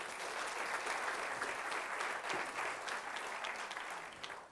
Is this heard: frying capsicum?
no